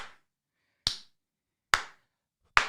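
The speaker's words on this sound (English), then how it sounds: "slow clap. Slow clap. Slow clap for justice." Three sharp, isolated hand claps spaced slowly and evenly nearly a second apart, crisp and close with silence between each.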